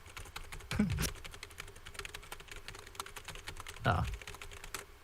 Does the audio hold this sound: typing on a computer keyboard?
yes